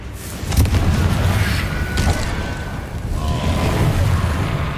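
Incendio fire spell cast in Hogwarts Legacy: repeated whooshing, booming bursts of flame over a rumbling game soundscape, loud and dense throughout.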